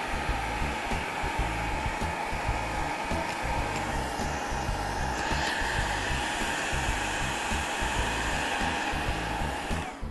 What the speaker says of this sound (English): Now on the top, I'm gonna just use my dryer and style freehand.